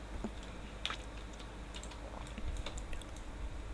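Computer keyboard keys tapped in scattered, light clicks during 3D modeling work in Blender, close and fairly quiet over a low steady room hum, with no voices.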